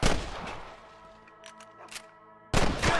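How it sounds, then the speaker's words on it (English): Two bursts of rapid gunfire in the video game Red Dead Redemption, one at the start and one near the end, with a quieter ringing stretch between them. "I can hear more gunshots."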